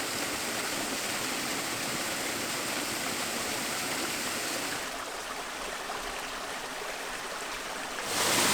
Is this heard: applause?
no